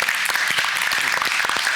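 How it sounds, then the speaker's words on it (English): Sustained, dense applause from a seminar audience on precision medicine, targeted therapy and immunotherapy, honoring Dr. Joel Neal, with steady loud clapping throughout and no talk. "Give him a huge round of applause"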